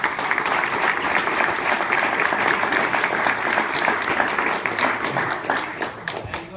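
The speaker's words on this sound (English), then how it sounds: "So big applause to them as well." An audience at a Speck&Tech tech meetup breaks into sustained, dense clapping that holds steady and close for several seconds before thinning slightly toward the end.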